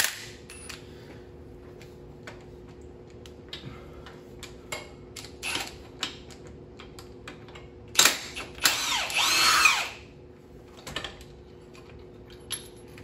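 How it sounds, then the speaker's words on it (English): An impact wrench with a 21 mm socket removes the crankshaft bolt on a 2001 Ford Mustang, sounding as one short, rough hammering burst partway through, amid quiet clicks and handling noise. "Now we can use our impact to pull it out. This is a 21 mm socket."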